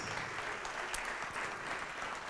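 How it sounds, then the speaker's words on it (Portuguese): Faint applause from a crowd, a steady patter of clapping heard from a distance. "vamos aplaudir mais ao nome de Jesus"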